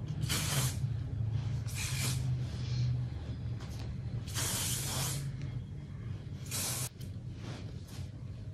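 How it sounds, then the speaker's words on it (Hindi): Hairspray misted over freshly curled hair in several separate bursts of hissing spray, each lasting about a second, close and loud over a steady low hum in the background. "स्प्रे ज़रूरी है वरना आपके कर्ल खुल जाएंगे।"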